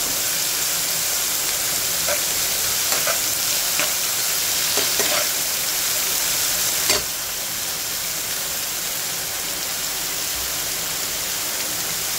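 Chopped cauliflower, cabbage, carrot, capsicum and red and green chillies sizzle loudly in a hot pan, a dense continuous frying hiss with a few stirring scrapes, quieting slightly partway through.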